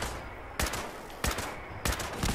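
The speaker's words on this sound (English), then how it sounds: "But there's damn turret here" A turret fires in Fallout 76, three sharp gunshot bursts spaced roughly evenly apart, loud and close over a low ambient background with no voices.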